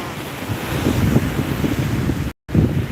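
Rough sea at Vettukad beach roars as a steady wash of surf and strong wind buffeting the microphone, loud and close, with a brief dropout near the end and no voices.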